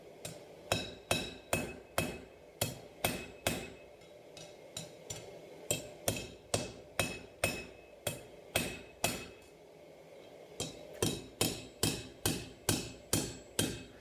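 A knife blade is hammered on an anvil to straighten its curved spine, with loud, sharp metallic strikes in quick rhythmic bursts separated by short pauses, close and with no talk.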